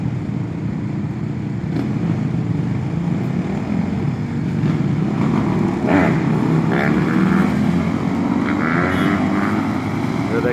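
A group of dirt bikes and ATVs rides past a beach-side homeless camp near a library, with a continuous loud engine drone that swells and shifts as the machines pass close by.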